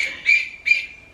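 A pet bird in a family home gives two short, loud squawks in quick succession, each a harsh burst fading back to quiet, with no talking.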